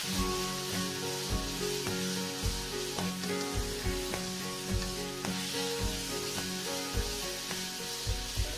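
Ginger, garlic and chilli sizzle in a hot pan while a utensil scrapes across the base in regular strokes, a close continuous fry with background music underneath.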